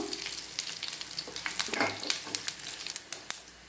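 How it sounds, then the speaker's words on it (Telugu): Mustard seeds and four dried red chillies fry in hot oil for a guava chutney tempering, giving a steady close sizzle broken by sharp pops and crackles, with no voices. "ఒక హాఫ్ టీ స్పూన్ ఆవాలు ఒక నాలుగు ఎండుమిర్చి కట్ వేస్తానండి వేసానండి ఫ్రై చేసుకుందాం"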